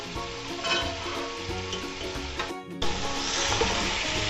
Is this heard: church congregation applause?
no